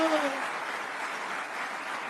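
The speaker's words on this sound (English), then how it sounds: "rousing applause, almost like a standing ovation." Crowd applause like a standing ovation, a dense, even wash of clapping heard at a distance and fairly faint, with a brief whoop at the start.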